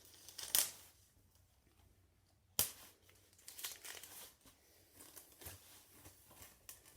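Cut vinyl sign stencil material being peeled off and ripping, close and quiet, with a sharp tear near the start, another mid-clip, then scattered crinkling and peeling, no talking.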